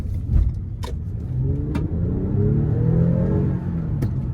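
A 2018 Toyota Avalon Limited with the 3.5 engine, front-wheel drive in sport mode, accelerating out of a corner, the engine note rising steadily from a low rumble into a smooth climbing drone heard from inside the cabin.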